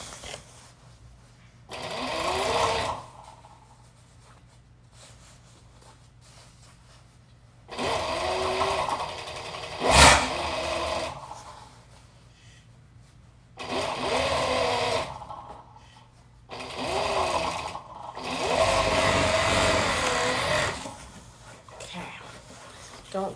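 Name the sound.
sewing machine stitching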